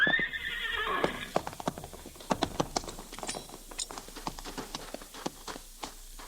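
A horse in a radio drama whinnies loudly and shrilly at the start, then its hooves clip-clop in a brisk, irregular patter close by as it throws its rider, with no speech.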